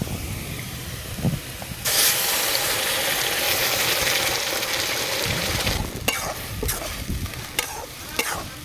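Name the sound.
pointed gourd paste added to pan, frying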